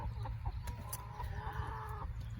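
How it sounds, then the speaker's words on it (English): A broody hen clucks in a nest box, giving a string of low, close, murmuring clucks with no talking. "We started with Miss Nugget here deciding that she was going to go broody."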